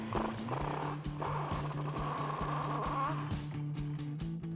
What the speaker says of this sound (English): I've got a 21mm socket to pop this off.